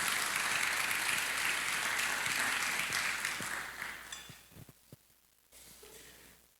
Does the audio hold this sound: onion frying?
no